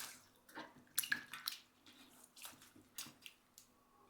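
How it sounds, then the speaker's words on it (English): Water splashing and dripping in faint, uneven bursts as cucumbers are rubbed and rinsed by hand under a running kitchen tap, with soft wet squishes in between. "Rub them under running water to rinse off all the salt and impurities on the surface."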